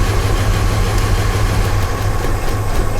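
A car engine with a cylinder misfire runs loud and close at idle, a steady low rumble with slight roughness throughout, and no talk.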